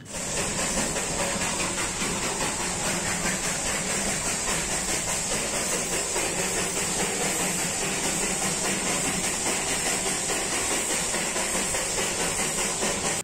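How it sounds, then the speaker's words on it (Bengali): A Darjeeling Himalayan Railway toy train starts its journey, giving a loud, steady hiss like venting steam that runs unbroken throughout, with a constant mechanical rumble beneath and no talking. "প্ল্যাটফর্মে টিকিট দেখিয়ে উঠে পড়লাম আমাদের দার্জিলিং টয় ট্রেনে। শুরু হলো পথ চলা।"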